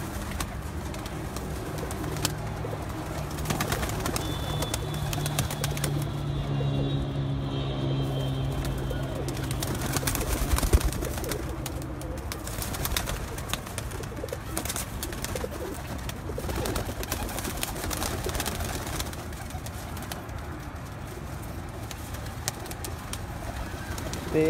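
Home-bred pigeons kept by a fancier coo repeatedly in a low, throaty murmur over a steady background of ambient noise, with other birds chirping faintly nearby and no talking.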